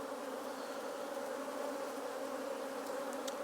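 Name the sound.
honey bees moving on a hive frame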